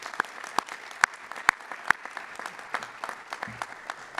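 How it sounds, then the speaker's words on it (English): An audience claps for classroom teachers at an education announcement. The applause is a steady, dense patter of many hands, held at an even level for the whole clip. "So big round of applause for the folks doing the job in classrooms every day."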